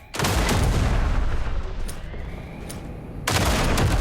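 Sustained automatic gunfire in the video game Duet Night Abyss, a dense, loud rattle of rapid shots running almost continuously for several seconds, dipping slightly midway before surging again.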